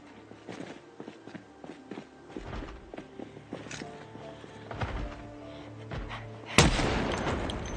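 In the Project Zomboid video game, a gunshot rings out and a bullet strikes a vehicle windshield, a sharp loud crack near the end after a stretch of quieter thuds and footstep-like shuffling.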